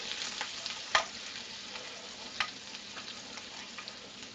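Minced garlic frying in a hot pan gives a steady, close sizzle, broken by a couple of sharp clinks or scrapes as it is stirred around.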